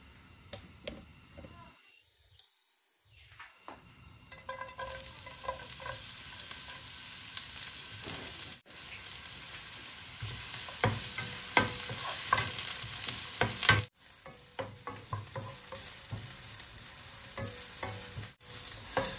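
Onion and garlic added together to a hot pan sizzle steadily, the frying noise rising after a brief near-silent gap and holding as a dense crackle with scattered pops and occasional stirring scrapes, close and fairly loud with no talk.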